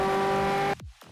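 McLaren P1 GTR engine in Asphalt 8, a loud steady high-revving drone with strong tonal harmonics that cuts off abruptly partway through, followed by brief swooping gear-shift or downshift sweeps.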